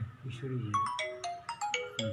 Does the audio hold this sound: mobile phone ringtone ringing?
yes